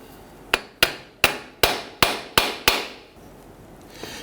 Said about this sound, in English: tap around the edge here and separate the rear unit from the coupler here